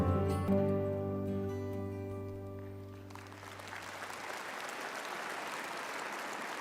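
Audience at the 2025 American Farm Bureau Convention closing session applauding for El Paso County, a sustained round of many hands clapping that swells in after a fading musical chord and continues steadily.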